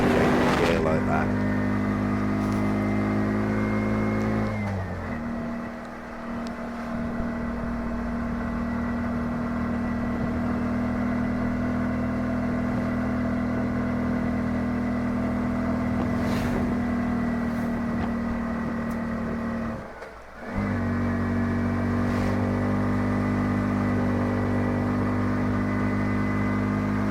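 An auto rickshaw engine drones steadily as it climbs an incline, the note dropping briefly twice at gear changes before settling back into a constant, close-up engine hum under occasional talk.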